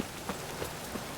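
Steady rain falls across a city in The Witcher 3: Wild Hunt, a soft continuous hiss of drops on surfaces with a few faint footstep-like taps, quiet and even throughout.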